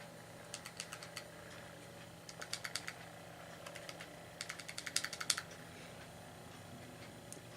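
Keys on a Kensington M01007 USB keypad and calculator are pressed in quick, light clicking bursts with short pauses between them, close and faint against a quiet room hum.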